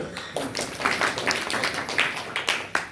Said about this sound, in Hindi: बहुत सुंदर, ताली बजाइए